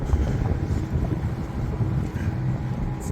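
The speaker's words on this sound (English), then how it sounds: "The wind's just starting to pick up as we leave the bay." Wind building steadily on a sailboat leaving a bay near Rhodes, heard as a continuous low rushing roar with gusty buffeting across the microphone, no voices.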